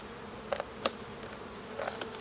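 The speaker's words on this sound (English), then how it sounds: "I think half of the bees are in the center." Bees buzz around an open beehive, with several short, faint passes of individual insects flying close by over a low background hum.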